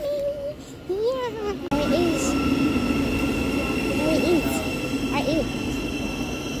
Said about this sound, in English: Our train is coming.